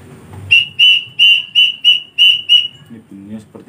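Two sawangan angkrik cricket-call whistles blown together give a row of seven shrill, piercing chirps in a steady even rhythm, loud and close, followed by a brief murmur of voice at the end.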